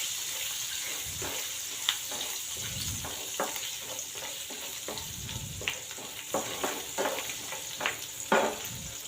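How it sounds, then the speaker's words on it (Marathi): Chopped garlic and curry leaves sizzle in hot oil as a tempering for dry French bean stir-fry, a continuous close crackle with repeated spatula scrapes and stirring taps, no voices. "लसूण आपल्याला तांबूस रंग येईपर्यंत छान असा परतून घ्यायचा आहे"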